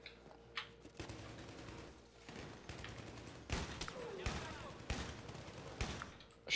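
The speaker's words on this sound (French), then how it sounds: "Je vais aller au fusil à pompe." Shotgun fire in Battlefield 3, several sharp blasts spaced a second or so apart amid battle noise and other gunfire, fairly quiet overall, with voices talking in the background.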